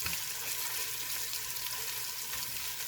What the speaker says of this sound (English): We're just going to keep stirring it, keep mashing that tomato paste down